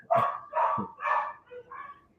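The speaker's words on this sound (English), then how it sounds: "Sorry, my dog." A dog barks close by indoors, giving four or five sharp, loud barks in quick succession, the last ones softer and more yip-like.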